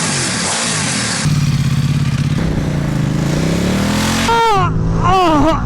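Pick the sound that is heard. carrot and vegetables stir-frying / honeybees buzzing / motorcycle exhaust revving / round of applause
motorcycle exhaust revving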